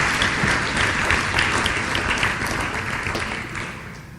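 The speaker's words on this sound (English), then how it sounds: "Please give him another round of applause." Sustained applause from a large crowd at an annual lecture, a dense steady wash of clapping that fades slightly toward the end.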